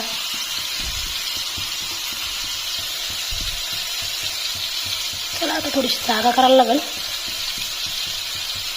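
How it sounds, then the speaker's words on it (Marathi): Fish liver frying on a tava griddle crowded with fish pieces, a steady, loud sizzle and hiss close up, while a voice talks over it and low scraping thumps of stirring come now and then. "कळेजी कळेजी फ्राय आज आपण मच्छीची कळेजी खाणार आहोत"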